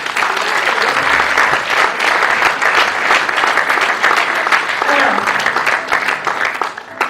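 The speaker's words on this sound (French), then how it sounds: "On peut les applaudir." A theatre audience applauds loudly and steadily, dense clapping filling the whole stretch without a break, with a brief spoken word at one point.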